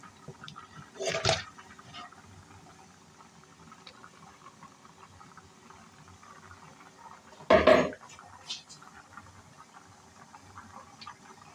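Dry rice poured into a pot of cooked chicken for chicken biryani, two short rattling, pattering bursts against the pot, with quiet stretches between.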